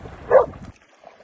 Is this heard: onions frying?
no